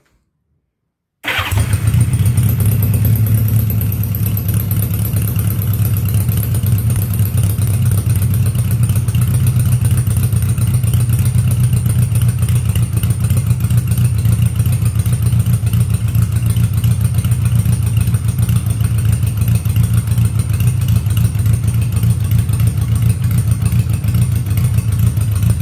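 A 1981 Honda GL1100 Goldwing with rebuilt carburetors and 66,000 miles fires up after a moment of silence, then settles into a loud, steady, close-up idle that runs low and even for over twenty seconds.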